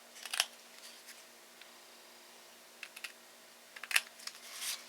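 Scissors snipping the corners of vellum-layered paper tags, a few crisp, brief cuts spaced apart against a quiet background, close by and with no voices.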